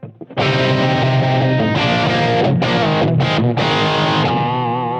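Heavily distorted electric guitar through a BOSS ME-80 multi-effects unit, playing sustained chords and a few choppy stabs, drenched in reverb that lets the final notes ring out.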